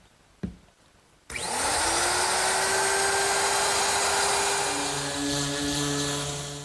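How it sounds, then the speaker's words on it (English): A wood router fitted with a quarter-inch roundover bit spins up after a brief knock and runs as a steady, loud, high whine while easing exposed corners on a garden armchair, with no talk over it. "With a quarter inch radius roundover bit, I'm easing any corners that might be exposed."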